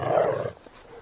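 A dog barks and growls in a tense Latin American Spanish-language action film scene, a loud, rough burst in the first half second that then fades into quieter background sound.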